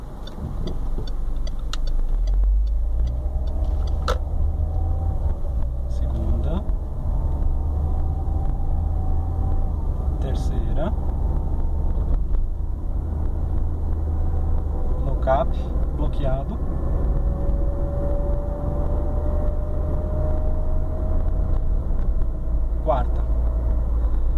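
A Peugeot 307 with an AL4 automatic transmission pulls away from a stop in traffic, its engine a low steady hum from inside the cabin while someone talks over it throughout.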